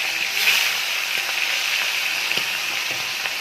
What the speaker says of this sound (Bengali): কড়াইতে তেল গরম হয়ে গেছে, মাছটা দিয়ে দিচ্ছি।